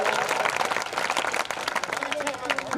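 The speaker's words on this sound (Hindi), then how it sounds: "कवि को जरूरी होती श्रोताओं की तालियां।" An audience applauds at a Hindi comic poetry recital, dense continuous clapping that fills nearly three seconds at moderate loudness, with voices mixed in underneath.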